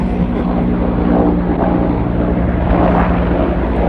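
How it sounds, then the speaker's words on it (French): A small security helicopter passes overhead in Tenerife, its steady rotor and engine rumble filling the scene at moderate distance with a broad, continuous drone and no talk. "On a un petit hélicoptère, on va le laisser passer."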